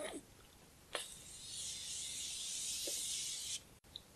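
A continuous fine spray mist hisses for about two seconds close by, preceded by a few soft clicks.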